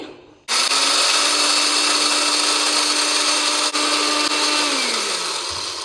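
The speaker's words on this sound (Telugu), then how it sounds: "పచ్చిపప్పులు ముందు అయితే ఇవి మిక్సీకి పట్టుకుందాం పొడి." A mixer grinder kicks on with a loud, steady whirring roar as it grinds raw lentils, then slowly winds down at the end.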